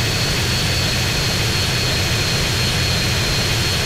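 A jet engine roars in GTA San Andreas, a dense continuous blast of broadband noise held at full loudness throughout, with no talk over it.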